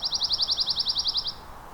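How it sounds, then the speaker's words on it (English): A male songbird sings a fast, loud trill of about a dozen evenly spaced high notes, close by, that stops abruptly after about a second and a half. "There's a lot of energy going into this song."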